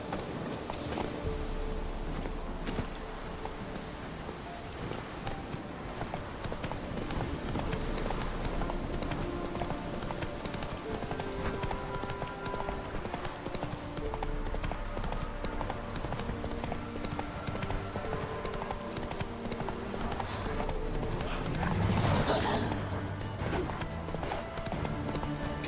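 Continuous clip-clop of horse hooves at a steady trot in The Witcher 3: Wild Hunt, close and fairly quiet, with rustling and a brief whinny-like sound near the end.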